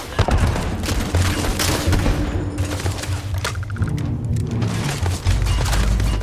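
Rapid gunfire and heavy launcher blasts in the sci-fi video game Starfield, dense overlapping shots and booms with low rumbling impacts throughout a combat exchange.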